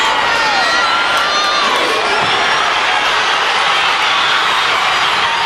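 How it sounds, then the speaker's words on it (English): Packed gym crowd at a Dothan versus Northview high school basketball game roaring and cheering in a dense, sustained wall of shouts and whoops, loud throughout. "Boy, this crowd has come alive."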